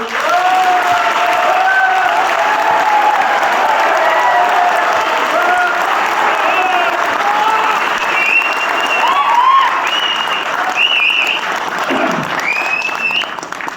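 Audience applause at a motivational speech by a trainer, sustained and fairly loud across the whole stretch, with a few voices and whoops mixed into the steady clapping.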